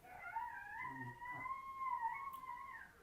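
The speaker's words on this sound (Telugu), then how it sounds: "కుక్కలు ఎలా ఏడుస్తున్నాయి ఒకటి మధ్యలో" Dogs howling at night, one long wavering howl rising and falling steadily across the clip, moderately distant with a faint lower whine beneath it.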